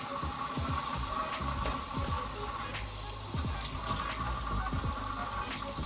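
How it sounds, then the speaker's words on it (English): Water pours and splashes steadily into a pan while making spaghetti tacos, with occasional clinks and bubbling, close by, no voices. "we're gonna add a little bit of water"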